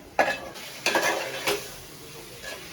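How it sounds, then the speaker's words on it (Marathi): A few distinct metallic scrapes and clatters of a utensil stirring in a pan over a soft, steady sizzle of chicken frying in a spice tempering. "आता चिकन फोडणीला घातलंय मस्त असं"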